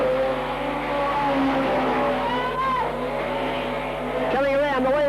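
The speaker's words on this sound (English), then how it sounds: "Good fast racing from the mini sprint cars." Mini sprint cars roar nearby during a race, with a continuous engine drone, rising revs and a brief tire squeal, while a voice talks over the noise.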